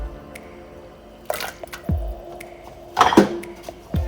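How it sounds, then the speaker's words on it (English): A few soft splashes and drips as water chestnuts drop into simmering chicken pho broth, with light clinks of a utensil against a pot. "Base is boiling right now, and I'm gonna add in the water chestnut."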